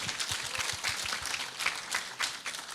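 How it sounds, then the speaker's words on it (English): Ceremony audience applauding, a steady spread of many hands clapping with a few sharper claps standing out, moderately loud and unbroken throughout. "Let's give them another round of applause."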